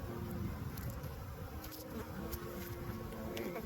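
A dense, steady buzz of many honeybees fills the air during a spring hive inspection, close and continuous, with a low droning hum beneath and no voices.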